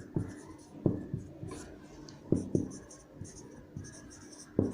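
Pen scratching across paper as maths working is written out by hand, a steady run of close, soft strokes punctuated by sharper taps, with no talking.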